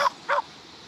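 A dog in the video game Indian Theft Auto barks twice in quick succession, two short, faint yelps followed by quiet.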